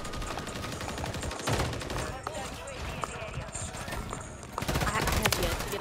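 Shotgun fire in Modern Warfare 3 multiplayer: a busy stream of gun blasts and clattering game sounds, moderately loud and continuous, under someone talking.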